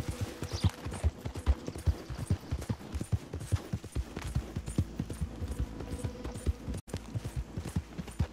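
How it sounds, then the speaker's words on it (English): Horse hooves gallop steadily in Red Dead Redemption 2, a rapid rhythmic clip-clop of a Dalmatian-coat horse at full sprint, close and loud with continuous thudding beats throughout and occasional faint tack and ambient game sounds. "it's a Dalmatian horse"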